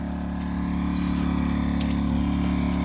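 A portable generator chugs steadily outside a bus, a loud, constant low engine drone with a firm rhythmic hum that holds level from start to finish.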